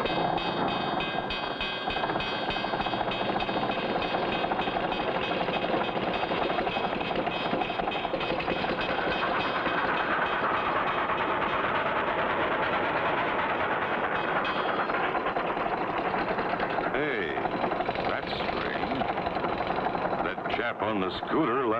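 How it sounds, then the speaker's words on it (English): A loud, steady rumbling roar of an approaching train fills the whole stretch, swelling slightly with a rattling clatter near the end. "Train's coming."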